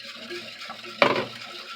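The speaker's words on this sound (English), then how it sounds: "I'm just going to stir it in gently" A spoon gently stirs jello powder into two cups of boiling water in a bowl, making soft swishing with one sharp clink against the side partway through, close and quiet.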